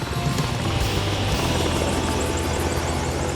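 A helicopter at Lake Hoare, a long-established Antarctic field camp beside a frozen lake, gives off a steady, loud rotor drone with a fast, rhythmic chop throughout, and no one speaks.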